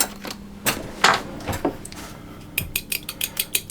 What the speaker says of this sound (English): which I'm just going to whisk